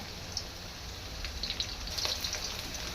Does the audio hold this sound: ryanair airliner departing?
no